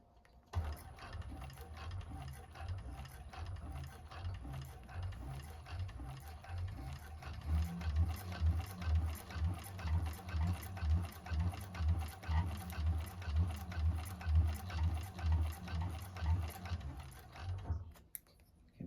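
A 1341 cylinder arm sewing machine stitches a bag with a steady mechanical clatter that grows louder and faster midway, runs continuously in a rhythmic whir of stitches, then stops abruptly.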